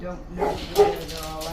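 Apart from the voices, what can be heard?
dogs whimpering and barking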